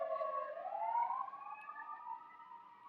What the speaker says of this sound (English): sorry, I just want the siren to pass